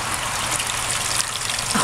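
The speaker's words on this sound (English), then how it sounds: "Look at all the water that's still coming out." Wet scoured wool spinning in a plugged-in spin dryer, water gushing and trickling out in a steady broadband wash with no pauses, close and loud throughout.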